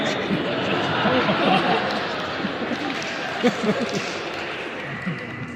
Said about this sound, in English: Why are you cheering?